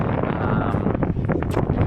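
Strong wind in Plainfield buffets the microphone in a steady, roaring rush under overcast skies, with gusty flutters throughout and no clear voices.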